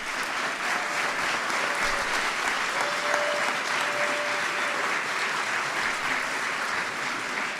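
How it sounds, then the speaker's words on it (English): A large audience gives sustained applause at a White House event honoring the World Series champion Kansas City Royals, a steady dense wash of clapping lasting throughout, with a faint tone and scattered cheers underneath. "Give him a big round of applause"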